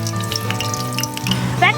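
Whole spices such as bay leaf, cinnamon, star anise, cloves and cardamom crackle and sizzle in hot oil for goat head curry, a continuous close frying hiss with tonal kitchen hum beneath and a brief swell at the end.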